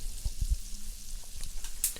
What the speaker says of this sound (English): Do that just to have it a little sizzling in there